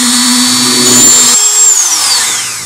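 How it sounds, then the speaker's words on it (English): A loud, close high-pitched whirring of a small rotary tool drilling into a golf ball, its pitch dipping and sliding as it bites into the hard surface, with no talking. "With my rotary tool, I'm going to just drill a hole in the top."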